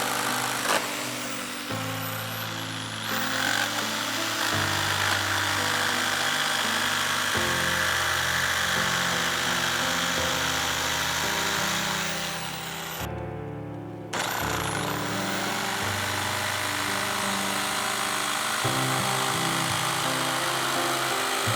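A power tool cuts through plexiglass fascia for an HO-scale model railroad layout, a steady loud buzzing drone that runs almost continuously and breaks off briefly partway through before resuming.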